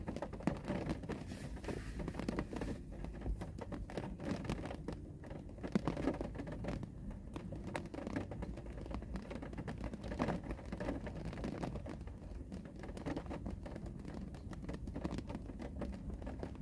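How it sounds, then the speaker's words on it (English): Steady rain falls outside during a hurricane relief trip, a faint, continuous patter and hiss with a low rumble underneath and no talking. "It has been raining all day here, guys."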